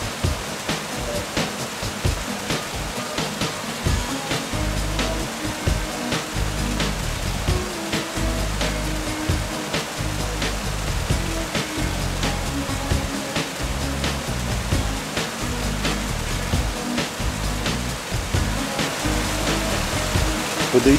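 A mountain waterfall, reached along a small rocky stream, roars as steady broadband white noise for the whole stretch, constant and fairly close, with no voices over it.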